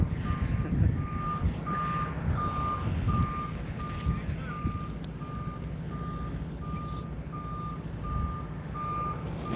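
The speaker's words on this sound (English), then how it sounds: "There's a second truck coming" Reversing beeps from a truck at the SpaceX Starbase launch site in Boca Chica, Texas, sound in a steady, evenly spaced series over a continuous low engine rumble, moderately near and with no talking.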